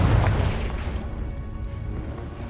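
A Confringo fire spell detonates in Hogwarts Legacy, a loud booming blast up front that rolls off into a fading rumble over a couple of seconds, with no talking over it.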